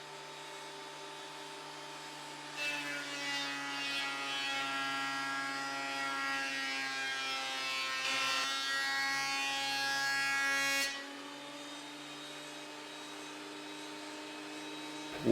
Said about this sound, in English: we are milling the first piece of our outer keel